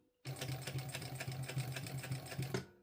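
A sewing machine runs a steady, fast stitching burst for about two and a half seconds, close and loud, with a regular mechanical rhythm, stopping abruptly, while sewing a bum bag.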